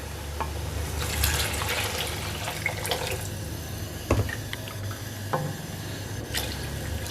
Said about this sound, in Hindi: तो अब हम इसमें पानी डाल देंगे।